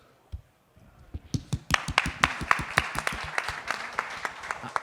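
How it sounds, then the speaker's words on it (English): An audience at a cybersecurity conference panel breaks into applause for an automotive industry panelist. A few scattered claps grow into steady, dense clapping that continues to the end. "Clap, please."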